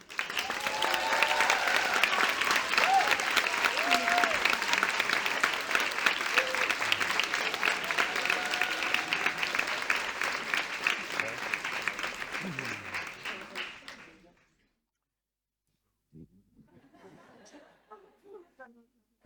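Lecture audience welcoming the speaker Gilles Clément with steady, enthusiastic applause and some scattered laughter and chatter, lasting about fourteen seconds before stopping abruptly, followed by faint murmurs.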